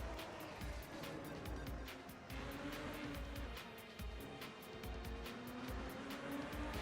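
A naturally aspirated V12 race car in Assetto Corsa drones steadily through ranked online racing, its engine note sustained and fairly loud with a mix of rolling mechanical noise and rhythmic clicking ticks above it.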